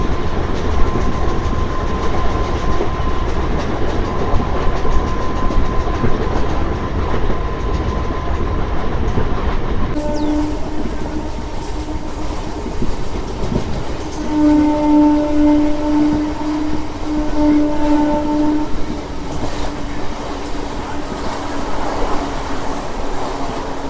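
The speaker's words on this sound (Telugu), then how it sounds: "మన ట్రైన్ యొక్క స్పీడ్గా చూసుకుంటే 102 అయితే కొడుతున్నాడు" A MEMU passenger train running at about 102 km/h between Vijayawada and Visakhapatnam, heard from inside as a loud, steady rumble and rattle with rolling wheel noise and faint tonal hums, continuous with no voices.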